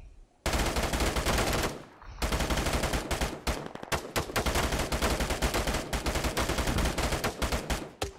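Military video game gunfire: sustained loud automatic bursts rattle almost continuously, broken by a brief pause near the start.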